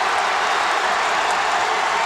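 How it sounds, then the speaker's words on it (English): Crowd noise at a 2005 Horizon League men's basketball championship game between Milwaukee and Detroit Mercy, a loud, unbroken roar of cheering and clapping with no pause. "Now the crowd gets into it."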